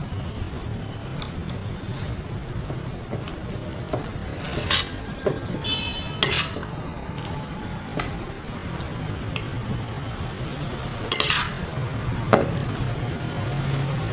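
Gado-gado, the Jakarta dish, being stirred and mixed with its sauce: continuous close scraping and clattering of utensil against the bowl, with irregular louder knocks and clinks throughout; no voices.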